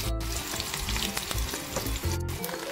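Chopped onion hits hot oil with mustard seeds and cumin, a loud continuous sizzle and crackle with stirring scrapes, close and steady throughout.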